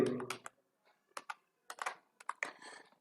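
Typing a captcha code on a computer keyboard, with close, crisp key clicks arriving in short bursts separated by brief pauses.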